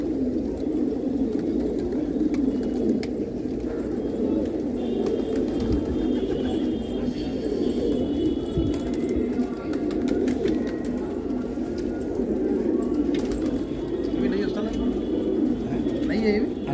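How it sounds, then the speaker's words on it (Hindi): Pigeons kept by a pigeon fancier in Old Delhi coo steadily and loudly close by, a continuous low murmuring bed of calls lasting the whole stretch with no talking. "शौक कर दिया कबूतरों का"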